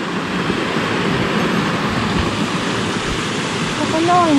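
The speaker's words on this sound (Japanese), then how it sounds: "滝がありますよ" A small waterfall on a clear mountain stream near Bandai-san, Japan, roars as a steady, close, broadband rushing wash with no breaks, and a brief faint chirping tone appears near the end.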